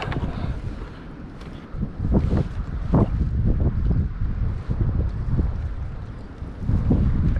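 Wind on a lake buffeting the microphone during kayak fishing, a loud continuous low rumble in gusty swells, with no speech.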